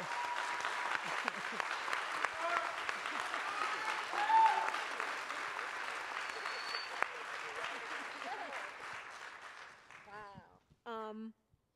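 Audience clapping at a live culture talk, a sustained round of applause that fades out near the end, followed by brief sounds.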